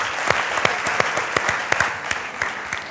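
Studio audience at a quiz show competition claps in steady, sustained applause, dense and moderately loud with sharper individual claps standing out, no voices over it.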